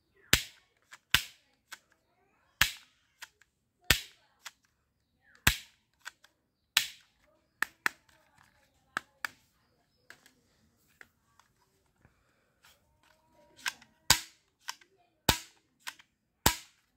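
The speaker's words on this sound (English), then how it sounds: "Wow, this is a small ball gun." A toy small ball gun fires a series of sharp, snappy cracks, loud and close, with irregular gaps between shots and a few fainter pops in a quiet room.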